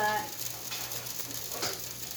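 Battered cauliflower pieces frying in a big frying pan give off a soft, steady sizzle that stays low and even throughout, with a faint voice briefly at the start.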